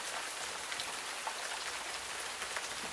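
Steady rain falls in a close, even hiss of countless drops, unbroken for the whole stretch with no voices.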